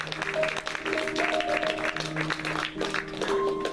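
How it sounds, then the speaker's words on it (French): Audience clapping at an evening event, continuous applause from a group with music tones underneath and some voices in the mix. "On peut tous les applaudir quand même."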